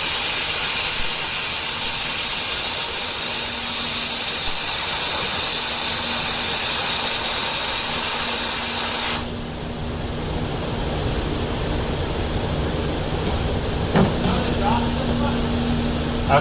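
Compressed air from a compressor hisses loudly and steadily through the pneumatic line of a high-speed car wash door, then cuts to a quieter hiss partway through, with a mechanical hum underneath.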